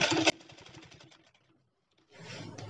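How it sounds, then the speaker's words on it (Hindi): Sewing machine stitching a belt onto a fabric sling bag: a short run of fast, even needle stitching that slows and stops, followed by a pause and quieter handling noise. "ऐसे करके चारों साइड से सिलाई लगाना है"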